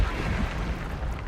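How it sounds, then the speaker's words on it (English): A battlefield explosion in the video game Banner Saga 3, a loud sustained low rumbling roar that rolls on without a distinct sharp attack. "An explosion rips into the battlefield, rattling the earth and engulfing the Sundra"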